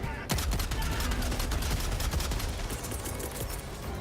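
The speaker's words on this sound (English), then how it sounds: "I just set it to semi and then spam fire" A gun in Helldivers 2 fired rapidly on semi-automatic, a dense run of loud close shots packed tightly together for several seconds, with faint voices underneath.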